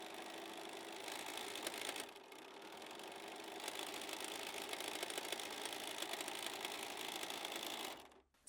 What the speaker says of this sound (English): I'm going over to the machine and I'm going to sew the hem.